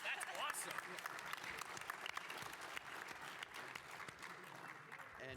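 Applause fills a convention panel room at PAX South 2016, a dense crowd clapping fairly steadily with some crowd noise and voices mixed in.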